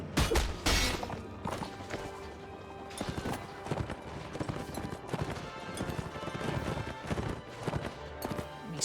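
Horses' hooves clip-clop and pound across a battlefield in the video game Warsword during an invasion of Transylvania, with a horse whinny, thuds and clashing combat noises over layered game music.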